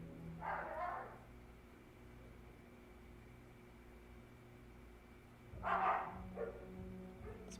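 Dogs bark in the distance in two short bursts separated by a long quiet stretch, faint against a steady background hiss, with no one talking.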